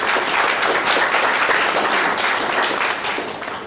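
Dense audience applause after talks at a seminar on an e-verification compliance scheme. Many hands clap together in a loud, continuous wash that fades near the end, with no speech over it.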